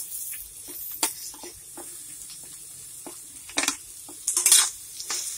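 Onions frying in a kadhai for Bihari-style kadhai chicken: a quiet sizzle punctuated by sharp scraping bursts of a ladle stirring, the loudest clustered near the end.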